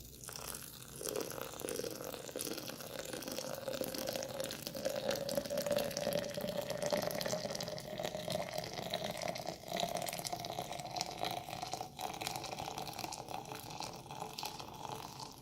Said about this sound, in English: and then I'm going to put in my 500 milliliters of water.